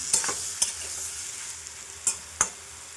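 Young jackfruit and shrimp sautéing in a pan, a steady soft sizzle broken by four sharp spoon scrapes and stirs spread across the moment, close and alone with no voices.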